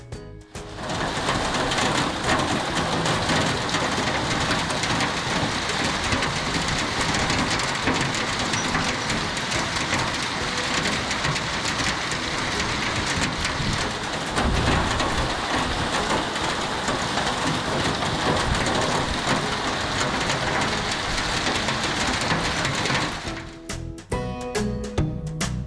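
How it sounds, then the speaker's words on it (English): Heavy rain pours and hail pelts down steadily for over twenty seconds, a dense, loud, continuous roar with no voices, easing and breaking up only in the last couple of seconds. "I'll show you the footage of it just pouring and hailing"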